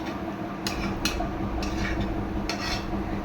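Taro and spices being stirred in a pan, a steady scraping clatter of a spoon against metal with a few sharper clinks over a low sizzle, close and moderately loud.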